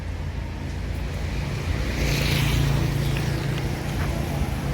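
A Sempati Star bus rolls past on a street in Palembang, a steady near engine rumble with road noise that swells slightly midway and then holds, no talk over it.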